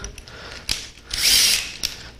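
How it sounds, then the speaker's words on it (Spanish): Electric drill on a woodworking bench for spider-leg nightstands, a brief high whirring burst that swells and fades in the middle, with a couple of sharp clicks before and after. "lo que voy a hacer es tomar el taladro"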